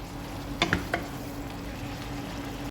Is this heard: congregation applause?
no